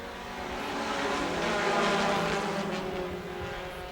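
Race cars in an outlaw mini-stock event roaring around a short track, a steady, loud blend of engines from several cars that swells and fades as the pack passes, with no talking.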